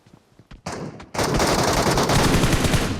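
Rapid automatic gunfire bursts from a firearm in PUBG Mobile, loud and close, starting with a short burst then a sustained dense volley with no talk over it.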